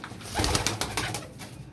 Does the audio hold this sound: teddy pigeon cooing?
yes